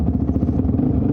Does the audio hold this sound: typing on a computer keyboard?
no